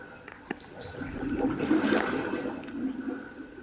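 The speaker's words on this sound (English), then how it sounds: "We're walking through pool water." Footsteps wade through pool water in the Resident Evil 7 horror game, with a faint click and then a swell of sloshing, gurgling water that rises and fades, heard alone and fairly quiet.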